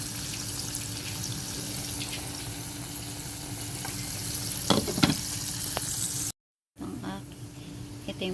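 Pancit noodles cooking in a pan in a home kitchen, a steady sizzle and frying hiss with a few clinks of utensils, briefly cut off near the end and then resuming.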